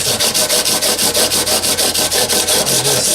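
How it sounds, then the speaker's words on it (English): Sandpaper stapled to a stick rubbed back and forth along the fretboard of a 1980s Aria 12-string acoustic guitar: loud, close, rhythmic raspy strokes about six per second, steady and even, with no talking. "I'm just using a stick with some sandpaper stapled to it. Level out the fretboard."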